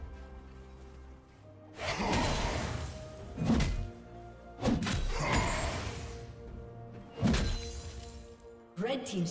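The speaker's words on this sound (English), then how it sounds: "Red team's turret has been destroyed." Turret destruction in League of Legends, heavy crashing impacts with shattering debris in three or four loud bursts separated by short quieter gaps, over a low ambient rumble.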